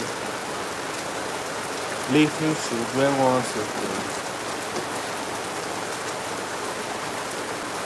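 Heavy rain pours steadily in Lagos, a dense, even hiss throughout, with a voice speaking briefly over it.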